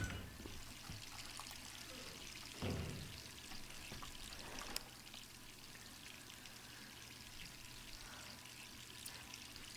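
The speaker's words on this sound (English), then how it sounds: "I don't know if this is just a game design thing to get you to come into the bathroom again to shut off the water" Bathroom tap left running in the video game Resident Evil 3 Remake: a quiet, continuous stream of water trickling and splashing into a basin, with a brief louder surge partway through and low background game ambience.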